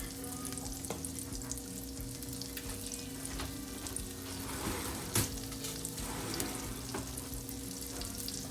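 Flour sizzles and cooks in melted butter for a roux, a steady soft frying crackle with occasional stirring scrapes and one sharp clink, fairly quiet and without speech.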